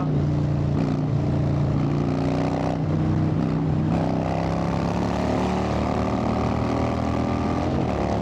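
Harley-Davidson FXDWG motorcycle engine cruising on a highway, a continuous low rumbling drone with steady throbbing tone and wind noise throughout.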